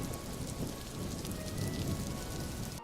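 Steady rain pours down in Kugane, a Japanese-style port city in a video game, an even, dense hiss of drops on surfaces that fills the whole moment with no voices.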